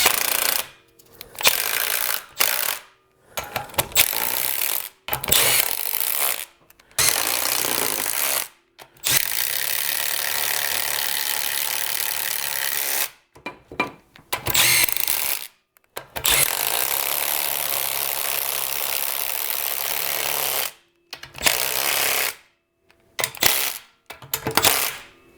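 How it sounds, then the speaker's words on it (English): A Briggs & Stratton engine's sump cover bolts are driven with an impact wrench on a low setting in long, loud buzzing bursts separated by short silences, each ending in a sharp clack, close by with no talk. "start them off with my impact at a low setting, and then I'm going to go back with a ratchet and a socket"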